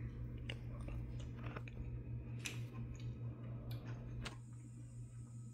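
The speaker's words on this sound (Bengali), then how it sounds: "আম খাচ্ছি।" Someone eating a mango up close, with soft, wet chewing and faint biting clicks over a steady low background hum.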